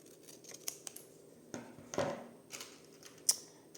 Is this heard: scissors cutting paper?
yes